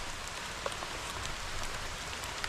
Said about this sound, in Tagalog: Inabot po ay ng ulan.